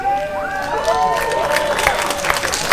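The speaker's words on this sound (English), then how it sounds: "Huge round of applause for them." A panel audience applauds and cheers for the He-Man cast at a 2018 RetroBlasting panel, loud sustained clapping mixed with crowd voices throughout.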